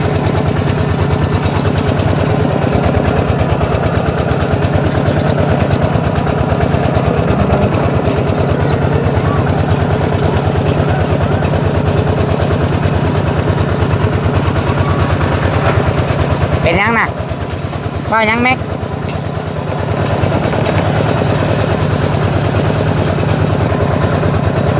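A two-wheel walking tractor (rot thai) engine drones steadily and loudly throughout while being ridden, with a brief dip in the middle, as people talk over it close by.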